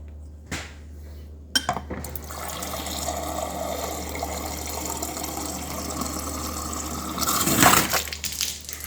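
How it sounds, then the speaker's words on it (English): Water gushes and splashes through a newly installed water filter at a kitchen sink, a steady running flow with clinks of dishes and a louder surge near the end. "run some water through the filter until it's nice and clear."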